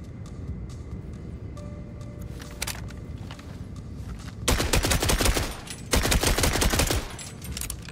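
Gunfire in the Borderlands 4 video game: scattered single shots and clicks, then two loud bursts of rapid automatic fire, each lasting about a second, with no talk.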